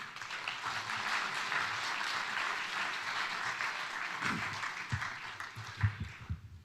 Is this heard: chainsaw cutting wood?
no